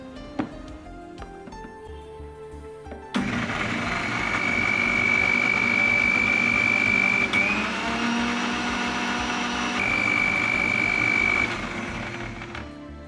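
An electric blender grinds tahini, starting with a sudden loud roar after a few quiet seconds and holding a steady, strained whine with shifting pitch before easing off near the end.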